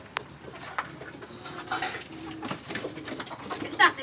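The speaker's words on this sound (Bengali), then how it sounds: "সকালবেলা কবুতরের পানি দিচ্ছি" Pigeons coo softly in the morning in a coop where they are being given water, several short repeated coos over low rustling and faint wing movement.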